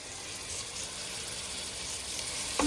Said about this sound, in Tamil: தக்காளியை நல்லா வதக்கிக்கலாம்.